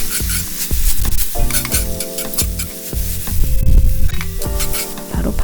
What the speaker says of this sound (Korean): 여기다가 파스타 물 넣어줄 거예요